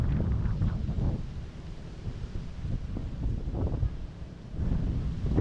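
Steady, blustery wind buffets the microphone at a Pacific-facing grotto in Dingalan, Aurora, a low rumbling roar that swells and eases throughout with no other clear sounds.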